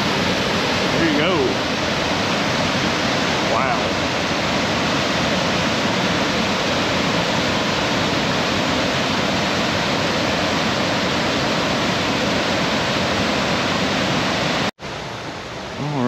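Abrams Falls roars as a loud, dense and unbroken wash of falling water, heard up close from a mountain trail, steady throughout until a brief drop near the end.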